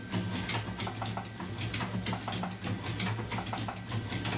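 An electric automatic cigarette rolling machine, a Fides unit rated for about 3000 pieces an hour, running steadily with a rapid, even mechanical clatter of repeating clicks over a low motor hum, close and fairly loud.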